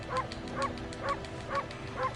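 A video game dog from Okami gives five short, evenly spaced barks, each crisp and clear over a low background hum of game music.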